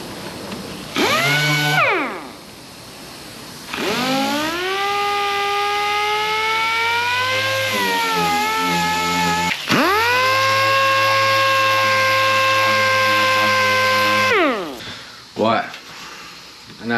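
A power sander whirs close by in a short burst on a car body panel, removing primer, then runs steadily for about ten seconds. Its pitch rises as it spins up and drops as it winds down.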